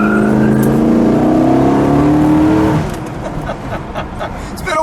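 A 426 Hemi 1969 Dodge Charger Daytona engine revs loud and close, its pitch climbing steadily for a few seconds before dropping off into a rougher, fading rumble.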